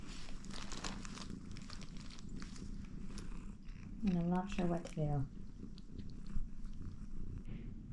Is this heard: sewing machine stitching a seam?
no